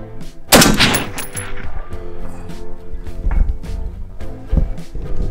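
An AR rifle firing, one sharp loud gunshot followed by a fainter metallic target hit, then several lower thumps and clatter trailing off over a few seconds.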